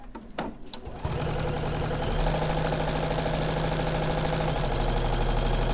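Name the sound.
sewing machine stitching foundation paper piecing block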